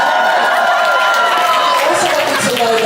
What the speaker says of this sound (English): I want you to cheer even more